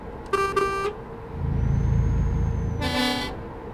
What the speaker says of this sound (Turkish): Burada havalı korna.